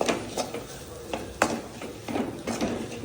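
A spoon stirs turmeric into mutton gravy in a pan, giving irregular metallic scrapes and clinks every half second or so, fairly soft and close, with no voices.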